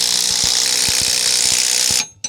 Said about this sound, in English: And torquing U-bolts.